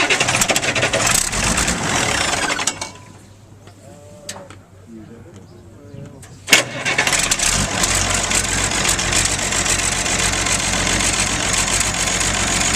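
Allis Chalmers 200 tractor at an estate auction: an engine runs loudly, drops away to near quiet with faint voices, then a sharp burst as it starts up and settles back into a steady loud run.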